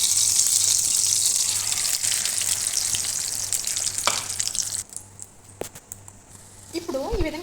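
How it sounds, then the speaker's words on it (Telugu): Egg omelette frying in a spoonful of oil, a loud, steady sizzle that fills the first few seconds, then drops off sharply, leaving scattered clinks and scrapes and a brief voice near the end. "ఒక స్పూన్ ఆయిల్ వేసుకుని ఆమ్లెట్ వేసుకుందాం."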